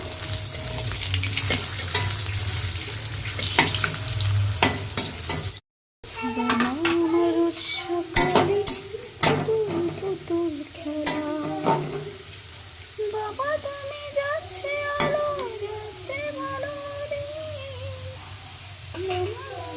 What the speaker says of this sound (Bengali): এই দেখো মুগের ডালের জন্য গাজরটা ভাজছি